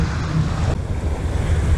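Strong wind blowing at a seaside park, continuous loud buffeting roar across the microphone with surf wash underneath.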